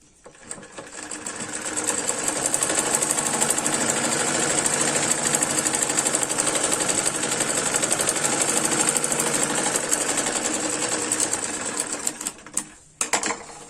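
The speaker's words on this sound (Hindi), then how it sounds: "इसको इसके ऊपर इस तरीके से एक बार सिलाई लगा के फोल्ड कर लेंगे।" A sewing machine stitches salwar fabric in one long fast run, a dense rapid mechanical whir with a rattling rhythm, starting up, holding steady close by, then stopping with a couple of clicks.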